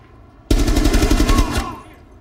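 Rapid automatic gunfire in Rainbow Six Siege Terrorist Hunt aboard an airplane, a loud sustained burst of about a second lasting a little longer, starting abruptly and then fading, with no voices.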